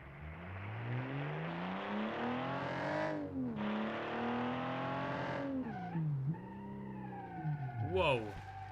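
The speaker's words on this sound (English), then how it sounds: "we're gonna hear the boxer sounds" Boxer engine cars in the BeamNG driving game: an engine revs up and down in sweeping pitch rises and falls, easing off briefly before climbing again, then settling into a steadier whine with a short squeal near the end.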